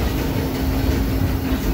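A Disneyland Railroad train rolls slowly toward a stop, a steady low rumble of wheels and running gear with a faint sustained hum, continuous and close with no talk over it.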